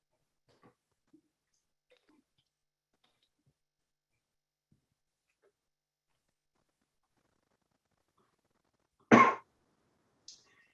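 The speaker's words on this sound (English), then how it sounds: "I'm going to also apologize preemptively for some coughing." A single loud cough or throat clear bursts out in an otherwise quiet room, followed about a second later by a shorter, fainter one; only faint ticks and rustles come before.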